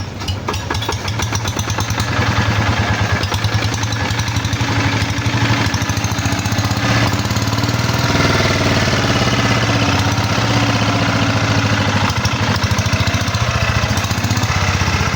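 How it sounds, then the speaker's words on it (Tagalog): A steady, chugging water-cooled Kubota RK-80 diesel engine runs continuously at a constant idle, loud and close, with a rhythmic low thumping and no voices. "yari na yung makina, umandar na, okay na ulit"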